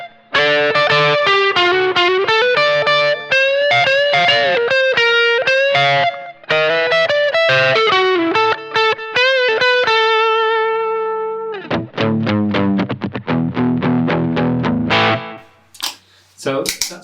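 Fender 60th Anniversary Jazzmaster electric guitar from 2018 on a bright, Telecaster-like setting, played loud and alone: a quick run of picked notes and chords with a driven edge, ringing into a sustained chord, then choppy strums and a last fading strum.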